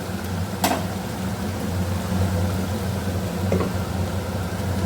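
Potatoes frying in a pan on a home stove make a soft, steady sizzle over a low background hum, with a couple of faint clinks, and no voices.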